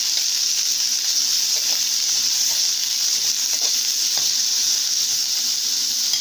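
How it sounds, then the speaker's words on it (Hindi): Mixed vegetables with cabbage are stir-fried in a pan with a spatula for a veg roll filling, a loud, steady hissing sizzle throughout with occasional light scrapes of the spatula. "फ्रेंड्स अब ये सारे वेजिटेबल्स को हम अच्छे से फ्राई कर लेंगे कट्टी से चलाते हुए ऐसे ही फ्रेंड्स।"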